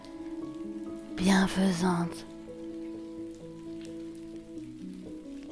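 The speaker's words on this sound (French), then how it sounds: "Les gouttes de pluie tombent doucement sur le sommet de ta tête et te rafraîchissent" Gentle, cool rain patters softly and continuously beneath a calm voice speaking over sustained soft tones.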